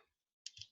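A brief double click of HP12C calculator keys being pressed, faint and close, after a moment of near silence.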